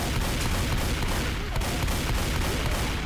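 Dense, continuous gunfire from Left 4 Dead 2, a steady barrage of rapid shots at constant loudness filling the whole stretch with no voices.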